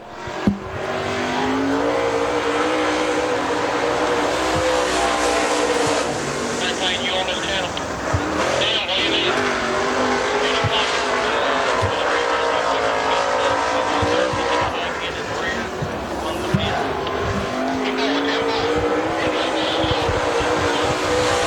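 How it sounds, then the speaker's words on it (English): A Steelhead 525 race car engine roars steadily at high revs through a qualifying lap at Dixie Speedway, with an announcer talking over the continuous engine drone. "First car out to qualify"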